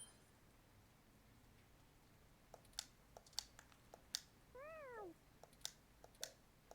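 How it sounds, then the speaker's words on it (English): Cat meowing in an indie video game, one clear, close meow that rises and falls, among scattered sharp clicks like typing or mouse taps. "I'm going to keep playing with this cat until it repeats forever."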